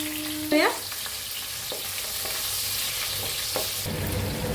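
Long-cut green chillies fry in hot oil with asafoetida, a close, steady sizzling hiss with an occasional scrape of stirring, continuous throughout without voices.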